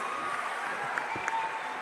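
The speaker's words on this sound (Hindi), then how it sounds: "एक बार जोरदार तालियां प्लीज" A live audience applauds at a youth interaction event with a chief minister, a steady, fairly faint wash of clapping that runs alone without talk.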